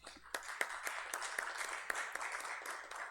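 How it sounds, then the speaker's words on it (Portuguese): Scattered applause at a committee meeting on economic development, a modest group clapping at an uneven rhythm with a few sharper individual claps, moderately faint and heard without talk. "uma salva de palmas."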